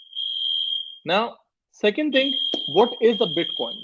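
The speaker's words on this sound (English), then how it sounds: "Again, it's a fire alarm." A building fire alarm sounds a continuous, piercing high tone that runs loud on its own at first, then carries on beneath a man lecturing, with a short break in between.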